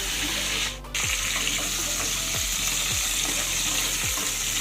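Pointed gourd (potol) pieces fry in hot oil with a dense, even hiss and sputter that fills the clip, close and steady, briefly dipping once, with faint knocks of a utensil and no talk.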